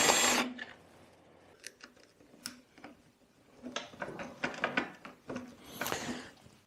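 A 9.5 mm bit drills into a Lambretta Series 1 hydraulic disc brake part in a garage, giving a burst of whirring followed by a run of uneven, grinding, stuttering cuts at close range.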